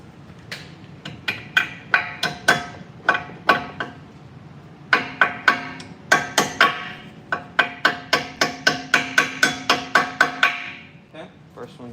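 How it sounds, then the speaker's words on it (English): Sharp metallic hammer taps drive a brake slide pin into a Tesla Model 3 caliper, two bursts of quick ringing strikes with a short pause between, close and clear. "Pop that through with the hammer."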